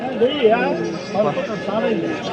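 Repeated wavering bleats from a goat, close by at a weekly goat market in Kadiri, mixed with a murmur of people talking underneath.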